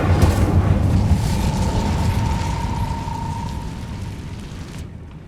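Fiery Confringo and Incendio spell blasts in the video game Hogwarts Legacy make a loud, sustained roaring rumble with a thin whine running through it, slowly fading toward the end.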